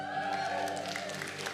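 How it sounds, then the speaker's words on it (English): A church congregation at an Easter service cheers for the pastor's wife, a faint, steady crowd roar with scattered claps beneath sustained tonal hum. "Stop cheering for my wife."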